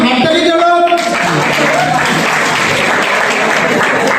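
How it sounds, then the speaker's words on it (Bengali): A crowd at a lottery prize draw bursts into sustained applause, dense hand clapping that continues loudly throughout after a short start. "হাততালি চলো"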